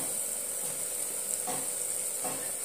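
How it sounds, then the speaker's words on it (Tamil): Masala sizzles steadily in hot oil while being sautéed for a vegetable biryani. The frying hiss is soft and constant, with occasional stirring scrapes. "இப்ப இந்த மசாலாவும் சேர்த்துட்டு பச்சை வாசனை போக நல்லா வதக்கி விட்டாச்சு"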